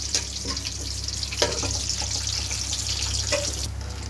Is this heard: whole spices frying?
yes